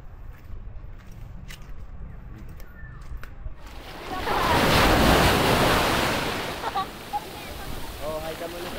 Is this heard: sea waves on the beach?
yes